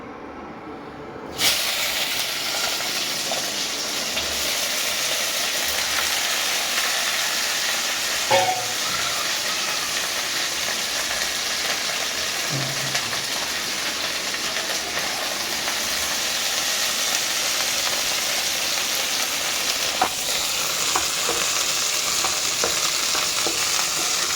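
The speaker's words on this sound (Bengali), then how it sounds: "ভেন্ডি ভাজাটা বসিয়ে দেবো আমি।" Okra frying slowly in hot oil in a wok after a nigella-seed tempering, starting with a sudden burst into a loud, continuous sizzle and hiss that holds steady throughout, with a few faint stirring clicks.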